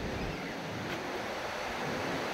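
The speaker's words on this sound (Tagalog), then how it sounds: "Lalaki ng alon." Big ocean surf breaking at a beach in San Juan, La Union, a steady loud wash of waves mixed with wind rumble, continuous throughout with no talk.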